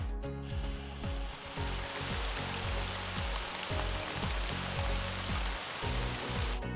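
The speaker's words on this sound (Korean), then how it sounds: "빗소리" Steady rain hisses and patters across a surface, a dense constant wash of drops with soft low tones underneath.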